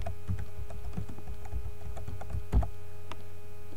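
Rapid, uneven clatter of keys being typed on a computer keyboard, close and fairly steady, with a slightly louder burst of keystrokes near the end and no talking.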